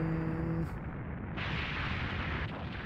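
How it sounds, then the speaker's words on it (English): A large explosion rumbles in the finale of the Breath of Fire III video game, a dense, steady roar of low noise that swells into brighter crackling partway through and continues loudly without any talk. "Looks like the explosion caught up to us"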